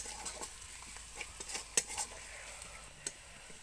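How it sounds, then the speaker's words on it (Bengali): Chili powder sautéed with spices in a pan, soft continuous frying under a quick series of close spatula scrapes and metallic clinks against the pan. "লঙ্কা গুঁড়ো দিয়ে কিছুক্ষণ লঙ্কাটাকে কষিয়ে নিতে হবে।"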